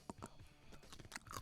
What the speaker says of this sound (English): They're crunchy pickles, man. These things are delicious.